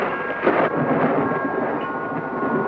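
A deep, continuous rumble of storm thunder rolling on without a break, loud and broad with a brief swell near the start, no voices over it.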